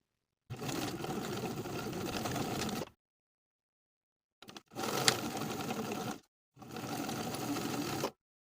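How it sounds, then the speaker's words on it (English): A sewing machine stitches the short ends of a jacket waistband in three steady bursts, each a few seconds long, separated by brief silent pauses. "Sew these short ends in line with the center front with a 3/8 inch seam allowance."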